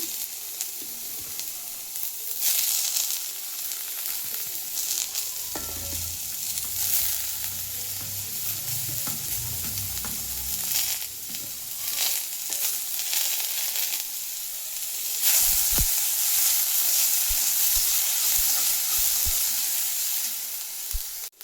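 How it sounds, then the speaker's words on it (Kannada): Grated coconut frying in a pan for chicken sambar, a steady close sizzle with scraping and clattering as a spoon stirs, sometimes thumping the pan, with no speech. "ಈಗ ಇದರಲ್ಲೇ ಕಾಯಿ ತುರಿ ಹಾಕೋಣ."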